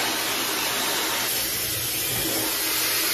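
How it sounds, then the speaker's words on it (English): Steady, loud blowing roar of a hair dryer running continuously, with a broad airy hiss and low rumble throughout. "I'm gonna use the appropriate hair dryer each side"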